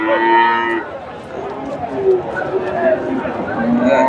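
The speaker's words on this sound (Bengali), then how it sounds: "এখানে একটা দেখেন ফ্রিজিয়ান জাতের গাভী" A Friesian dairy cow moos loudly in a low, drawn-out call at the start, with crowd chatter and voices continuing through a busy outdoor cattle market in Bogura, Bangladesh.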